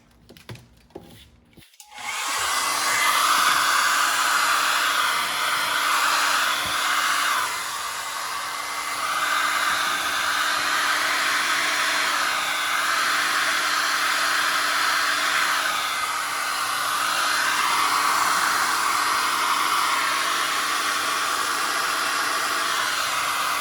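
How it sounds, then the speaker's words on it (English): A hair dryer blows loudly and steadily for a long stretch after a few brief clicks and rustles, its whine wavering slightly. "just grab your hair dryer"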